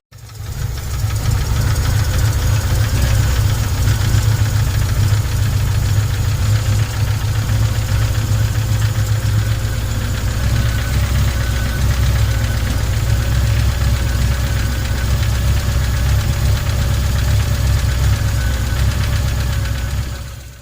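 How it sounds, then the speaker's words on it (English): An MGB GT engine idles steadily up close, a loud, even rumble with a faint mechanical knock that holds without a break for about twenty seconds, with no talking. "So I'll start the engine"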